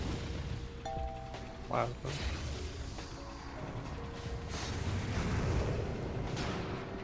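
Bombs go off during a World of Warcraft Ulduar 25-player raid: a sharp boom near the two-second mark amid a steady rumble of combat effects, with a voice talking over it.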